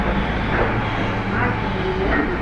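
A heritage railway train at the Elsecar station platform gives off a steady, loud rumble and mechanical hum, continuous throughout with no clear pauses.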